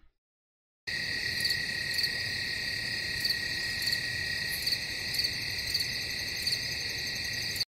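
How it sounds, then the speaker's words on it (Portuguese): After a moment of silence, a crickets-chirping sound effect starts: a continuous high trilling with regular pulses, steady and fairly loud, with no talking. "Grilos tocando."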